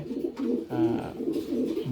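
Pigeons coo in a breeding loft, several soft throaty calls rising and falling close by, overlapping in short phrases with no talk.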